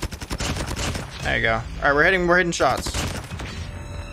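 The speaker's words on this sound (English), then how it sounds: "we're hitting shots!" Rapid bursts of gunfire in a first-person shooter game ring out in quick clusters under excited talk from players, with loud sustained shots in the middle.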